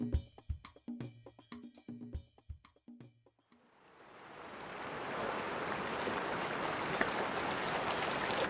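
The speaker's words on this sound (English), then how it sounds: "We're on Yosemite Creek below Lower Yosemite Falls." Yosemite Creek rushes below Lower Yosemite Falls on a cold early April morning, a steady, broad wash of flowing water that swells in after a few seconds of sharp knocks and stays constant and moderately loud.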